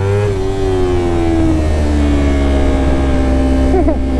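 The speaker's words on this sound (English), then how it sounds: "I'm gonna rev up on you" Motorcycle engine revving loudly and close, with a steady rising and falling engine tone held through the whole stretch and a brief sharper blip near the end.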